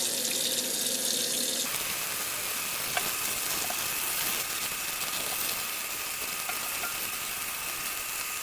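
Tap water runs steadily as a tie-dyed shirt dyed with black drip dye is rinsed out in a sink, a continuous close hiss and splash with no talking.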